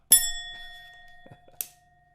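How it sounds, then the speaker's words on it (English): A single bright bell is struck, its tone ringing out and fading, followed by a faint knock and a second short metallic tap. "it's because I didn't ring the bell"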